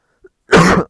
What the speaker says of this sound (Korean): 제가 이거 기침 일부러 한 게 아니라 갑자기 나오네.